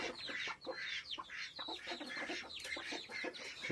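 Chick chirping close by next to an egg, a steady run of high, busy peeps and clucking calls filling the whole stretch with no talk.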